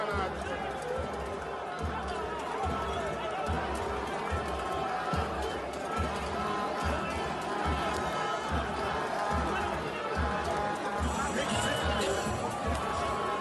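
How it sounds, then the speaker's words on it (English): An animated crowd at a political rally in Port Harcourt chants Atiku in a loud, dense, rhythmic roar of many voices that continues without a break. "Very animated crowd there in Port Harcourt, chants of Atiku"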